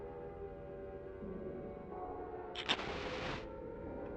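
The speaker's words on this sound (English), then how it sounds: "just kind of hear like a siren in the background" Distant siren wailing in the background of the video game Silent Hill, a faint sustained tonal drone under low ambient noise with a brief brighter swell near the end.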